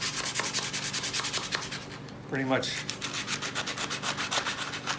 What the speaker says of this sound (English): it's really just very quick sanding